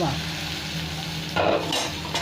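Pointed gourd (potol) fries in oil in a covered pan, giving a steady close sizzle, and a louder burst of sizzling and clatter follows partway through.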